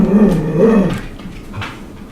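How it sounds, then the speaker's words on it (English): A jealous dog growling close by, a low rumbling snarl that rises then fades into softer rumbles, loud and alone. "And Libby, a jealous dog."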